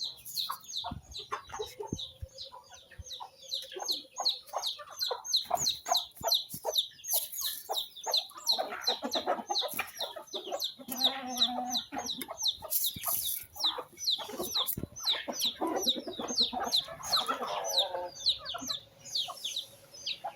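Pet chickens clucking busily while being fed in the morning, many close, overlapping clucks and short calls in irregular bursts, with occasional louder squawks and scratching sounds.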